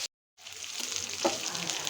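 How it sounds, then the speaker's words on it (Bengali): Chicken pieces fry in a pan for tandoori-style chicken, giving a steady close sizzle with a brief louder crackle partway through, alone after a short silent gap at the start. "আমার এই মাংসগুলো ভাজা হয়ে গেছে"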